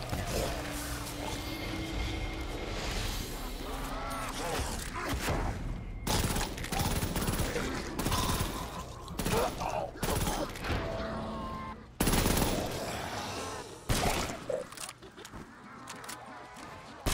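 A machine gun in a zombies shooter on a small map fires in long, loud rapid bursts with short gaps, mixed with mechanical clatter and a voice speaking over parts of it.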